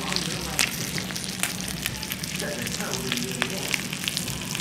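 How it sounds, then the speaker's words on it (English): Bacon sizzles steadily in a frying pan, a dense crackling hiss with scattered pops, fairly quiet and heard on its own. "You got the bacon getting nice and sizzly in there."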